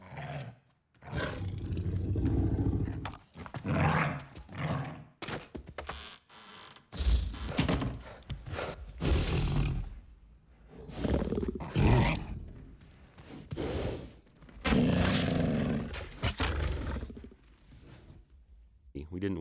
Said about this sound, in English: not dog sounds at all, but tigers and elephants and lions